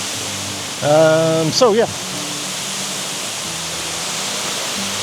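Broadband rushing roar of a waterfall in the Pacific Northwest, steady and continuous through the whole stretch, with a brief spoken remark near the start riding over it.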